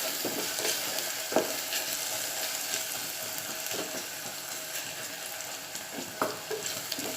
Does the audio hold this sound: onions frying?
yes